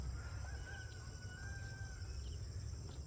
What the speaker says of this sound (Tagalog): Manok, marami akong manok sa taas.